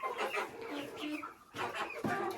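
Egg-laying hens cluck in short, repeated bursts close by, mixed with a voice talking over them.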